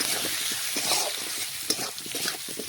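Potatoes and onions sizzle steadily in a hot pan while a spoon stirs in salt, scraping and clinking in an irregular rhythm close up, and a voice speaks briefly.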